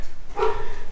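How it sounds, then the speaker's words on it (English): A single dog bark sounds briefly at a moderate distance over steady outdoor background noise on Great Harbour Cay in the Bahamas. "I hear a dog barking."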